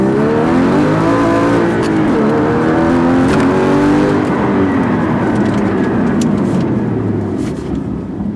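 A Porsche Cayman GT4 sports car engine revs loudly and accelerates, its pitch climbing and shifting through gears, close up and roaring continuously.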